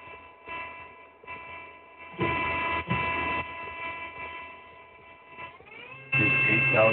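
The spindle of a 2011 Mori Seiki NHX4000 CNC horizontal machining center spins at 5,000 RPM, a steady tonal whine with brief louder bursts and a rising pitch near the end.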